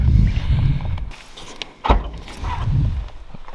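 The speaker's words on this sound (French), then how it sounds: "Je vais ouvrir l'arrière aussi." The rear lid of a Porsche GT4 RS is opened: a single sharp latch click and thunk midway through, set against a steady low outdoor rumble with no voices.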